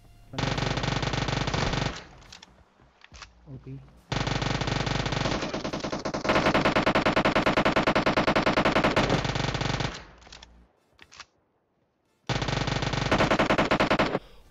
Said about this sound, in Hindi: ऊजी चला रहा हूँ बढ़िया यार बिल्कुल सेटिस्फेक्शन मिल जाती है ऊजी की आवाज़ सुन के